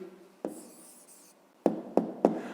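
Pen or marker writing an answer by hand for a fifth-grade maths problem: a scratchy stroke, then three sharp taps or dots near the end, close and fairly quiet with no talk.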